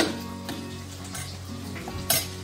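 A bottle gourd and dal mixture is stirred in a pot, with close scraping and sloshing strokes over a faint sizzle and one sharper clink near the end.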